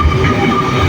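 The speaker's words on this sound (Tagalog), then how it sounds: "May parating na naman guys na panibagong train." LRT train arriving at Dr. A. Santos station on the Cavite Extension, a loud, close, steady rumble of rail cars rolling in, brief and continuous.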